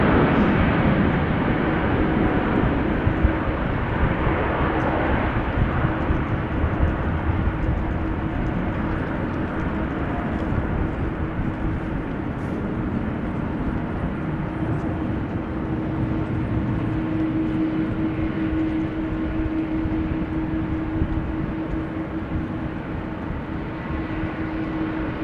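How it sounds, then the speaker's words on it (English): A United Airlines airliner at Amsterdam Schiphol gives off a long, steady jet rumble at moderate loudness, with a low engine drone and a whine that sharpens toward the end. "That is United Flight 21 to Houston."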